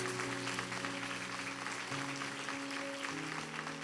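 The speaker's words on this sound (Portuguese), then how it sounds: "aplauda forte, meus irmãos" Church congregation applauding during a service, a dense continuous patter of many hands clapping together, steady and fairly loud, with sustained organ-like tones running underneath.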